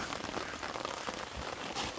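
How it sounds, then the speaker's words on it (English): Rain pours down at a campsite in a dense, steady hiss of drops pattering on surfaces, close and continuous with no voices. "Look at the rain coming down. It's raining again"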